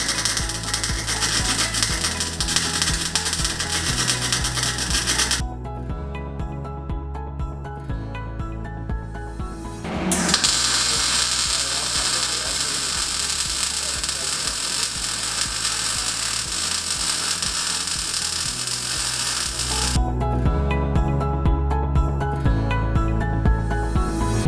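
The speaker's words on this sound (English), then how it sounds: "we're going to do a weldment without shielding gas" An electric welding arc running without shielding gas, a continuous harsh crackling and sizzling close by that shifts character a few times and briefly breaks near the middle.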